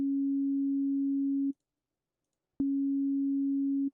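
Pure sine wave tone from an Ableton Operator synthesizer oscillator, a clean steady low note held for about one and a half seconds, a brief silence, then the same tone again for over a second.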